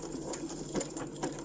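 A sewing machine stitching embellishment clusters in a crafting session, running at a steady, continuous hum with a fast mechanical rhythm, close and moderately loud, with no talking.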